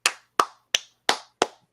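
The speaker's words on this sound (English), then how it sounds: "I was clapping it up." A man claps his hands six times alone, each a sharp, close slap ringing briefly in a quiet room, evenly spaced about a third of a second apart.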